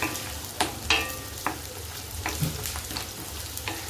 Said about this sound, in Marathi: आणि हे सगळं आपल्याला एकत्र तेलामध्ये फ्राय करायचं आहे थोडंसं नरम होईपर्यंत कांदा लसूण अद्रक